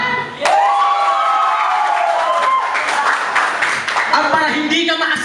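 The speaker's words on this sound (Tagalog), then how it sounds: "Oh, dahil idol ito, bigyan din na napakalakas na palakpak." An audience at a Filipino balagtasan poetry event applauds and cheers a poet, loud sustained clapping and crowd shouts with voices mixed in.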